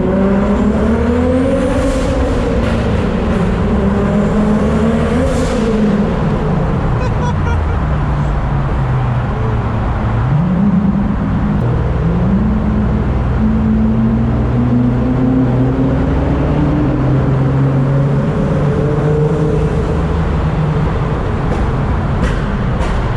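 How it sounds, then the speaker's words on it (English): A 900-horsepower Toyota Supra on a night drive toward Times Square, its exhaust a loud, continuous drone with shifting engine tones as it accelerates through city streets, close and dominant throughout. "That's your exhaust?"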